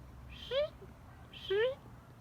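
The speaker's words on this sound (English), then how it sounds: "That's a hummingbird trying to mate with the female right now." Two short high-pitched chirping calls from a hummingbird courting a female, with quick rising tones, spaced about a second apart over a quiet garden background.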